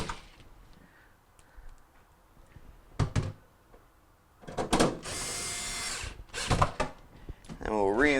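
A power drill whirs in short bursts close by as it drives screws into the evaporator cover inside a GE refrigerator that is not cooling. Clicks and handling noises come between the bursts, and a voice can be heard.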